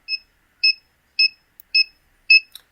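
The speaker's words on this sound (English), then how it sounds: "just a piezo buzzer" A piezo buzzer driven by a 2 Hz flasher in a simple circuit beeps five times at an even pace, short bright tones close up with silence between.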